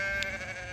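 A single short sheep bleat, close and clear, lasting under a second with nothing else around it.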